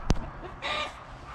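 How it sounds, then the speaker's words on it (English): Agitated chickens give a sharp squawk followed by a burst of harsh clucking, close by and loud, then quieter background fuss. "I think we pissed off the chickens."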